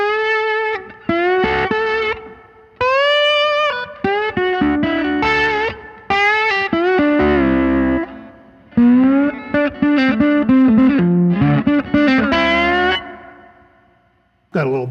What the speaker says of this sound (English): one of the sounds that I use quite a bit from the overture is kind of an attempt at getting like a plexi type tone